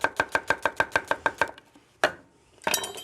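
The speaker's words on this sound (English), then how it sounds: "Now this onion for in here, I would not chop fine. I would just julienne it like that." A knife julienning an onion on a cutting board, about ten quick even chops in a steady rhythm, then a pause, one more chop, and a brief clatter at the end.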